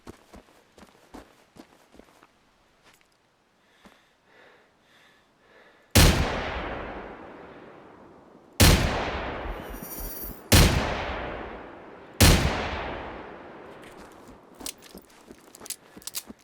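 Magnum pistol fired in the video game Generation Zero: light footsteps and faint movement, then four loud, separate booming shots spaced a couple of seconds apart, each with a long echoing decay.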